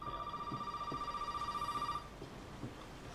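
A phone rings in the horror video game Resident Evil 7 with a rapid trilling bell for about two seconds and then stops, leaving quiet ambience.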